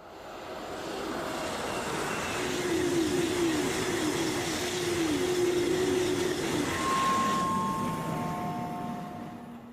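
Interior of a Eurostar high-speed train carriage heading to Lille, with a steady broadband rumble and rail hiss throughout, some squealing wheel tones midway and a thin whine near the end, no talking.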